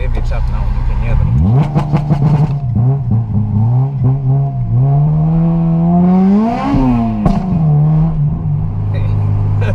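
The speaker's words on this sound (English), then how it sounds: "I'll probably rev it up now and you can hear them." A Honda Civic EP3 engine revs up and down repeatedly, rising and falling in pitch, loud and close, with a person speaking over it.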